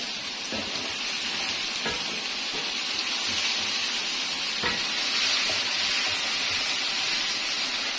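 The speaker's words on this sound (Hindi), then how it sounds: "साथ साथ ये चम्मच हिलाते रहेंगे ताकि ये जले ना।" White chicken karahi sizzles steadily over high heat in a pan, with a spoon giving a few faint scraping taps against the metal beneath the constant close frying hiss.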